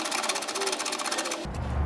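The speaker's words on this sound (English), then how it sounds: "However, thanks to Freddie, I'm gonna be using this ratcheting line wrench." Ratcheting line wrench working a brake line on a Supra A70/Mk3 during a rear big brake upgrade: a fast, steady run of light mechanical clicks, close up, ending in a brief duller shift.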